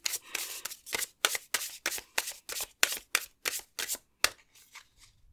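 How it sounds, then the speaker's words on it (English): Tarot card deck being shuffled by hand, a rapid run of about a dozen crisp riffling bursts in a steady rhythm, close and fairly quiet, with no talking. "I'll do another shuffle on that"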